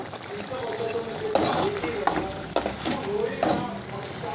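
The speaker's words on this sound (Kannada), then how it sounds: "ಸೊ ಒಂದು ಸ್ವಲ್ಪ ಹೊತ್ತು ಇದು ಕುದಿಸೋಕೆ ಬಿಡ್ಬೇಕು ಈ ಥರ" Mutton keema simmering in a pan gives a soft bubbling sizzle, broken by a few scraping stirs, fairly quiet and close.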